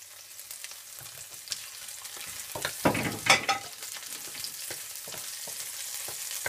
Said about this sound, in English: When it's starting to heat up, I'm gonna bring all the fragrance into the oil first.